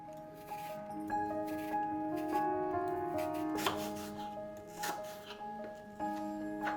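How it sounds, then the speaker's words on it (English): A knife chops through apples on a board into thin, small slices in quick, irregular strokes over soft background music. "Begin by chopping up your apples."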